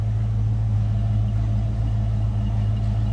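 Idling V8 engine of a 1991 Ford Mustang LX convertible with a stock cam and exhaust, a steady low rumble running evenly and close throughout without revving.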